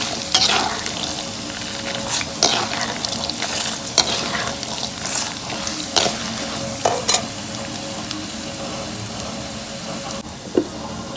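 Green and dried red chillies fry in hot oil for spicy lemon rice, giving a steady close sizzle with occasional stirring clanks against the pan.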